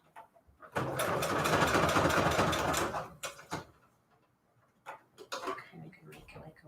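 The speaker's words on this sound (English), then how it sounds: "And I'm just going to straight stitch on here." A sewing machine straight-stitches through paper scraps in one steady, rapid run of needle ticking that lasts about two seconds and then stops, followed by a few quiet handling knocks and brief voice sounds.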